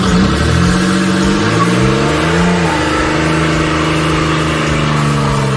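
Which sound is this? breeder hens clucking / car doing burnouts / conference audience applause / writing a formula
car doing burnouts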